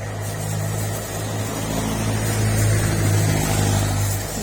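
A blower on a used motor oil stove runs with a steady low hum and broadband whoosh, constant and fairly close, with no voices.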